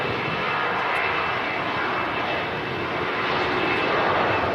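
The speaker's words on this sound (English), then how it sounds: "There goes the Star Alliance special. Lufthansa heading back to Munich." A Lufthansa airliner in Star Alliance livery departs Manchester Airport, its engines a loud, sustained roar that holds steady and swells slightly toward the end.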